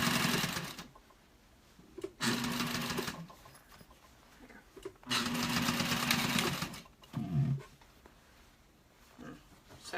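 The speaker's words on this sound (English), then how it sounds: "And just sewing along." A sewing machine stitches fabric for a slouch hat in several loud, rapid whirring runs of one to two seconds each, with quiet pauses and soft handling noises between them.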